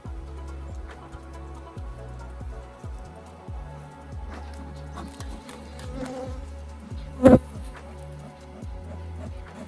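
Honey bees at a Layens horizontal hive give a steady low buzzing hum throughout, with faint knocks and one loud thud near the end.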